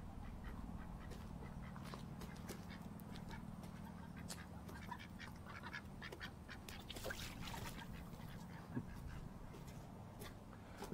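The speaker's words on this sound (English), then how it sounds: "Two handicapped ducks." Ducks quack repeatedly in short, scattered calls over a steady background hum, fairly close and moderately loud.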